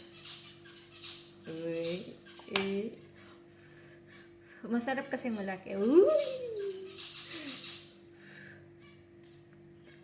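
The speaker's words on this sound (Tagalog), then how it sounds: "andito na naman itong mga ibon kong nag-iingay" Small birds chirp and tweet outdoors near a home kitchen in repeated high, sharp calls, while a person talks close by over them.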